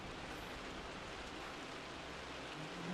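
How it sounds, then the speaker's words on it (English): Steady rain falls outside Croft Manor in Rise of the Tomb Raider, a constant even hiss of downpour with no voices over it. "It's raining outside."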